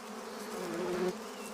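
Worker bees from a stingless bee colony buzz close by, a steady droning hum that swells briefly in the middle with no voices.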